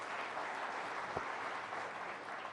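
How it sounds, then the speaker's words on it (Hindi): Audience applause at the News18 Rising Bharat Summit 2024, a fairly faint, steady wash of clapping from a large crowd that continues evenly throughout. "जरा जोरदार तालियां हो जाएं प्लीज।"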